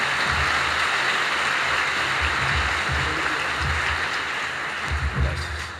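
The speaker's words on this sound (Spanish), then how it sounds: "Vamos a brindarle un fuerte aplauso a Monseñor para este primer momento." A pastoral assembly audience gives a warm round of applause to Archbishop Ismael Rueda Sierra of Bucaramanga. The clapping is steady and full throughout, thinning slightly near the end.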